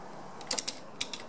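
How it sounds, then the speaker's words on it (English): A 5mm hex key turns a rear brake caliper pin on an ST1100 motorcycle, giving a few faint, close metallic ratcheting clicks in two small clusters over a quiet background. "So we are taking out the caliper pin now."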